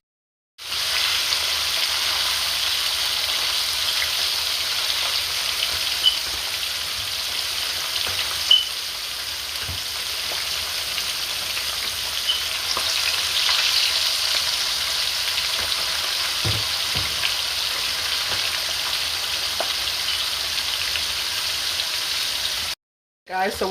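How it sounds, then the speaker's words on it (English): Steady oil sizzle of salmon frying in a pan, continuous and close, with a few faint clinks and light background movement. "until we finish frying the rest of them"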